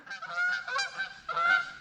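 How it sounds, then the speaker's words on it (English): Several geese honk repeatedly in a flyby over a shop, the calls overlapping in loud, clear bursts with short gaps between them, close and unaccompanied by talk. "Here come the geese."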